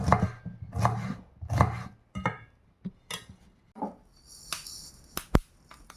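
Knife finely chopping vegetables for pickle on a board in quick bursts of sharp taps, with a few scattered clinks and clacks after, close and clear with no talking.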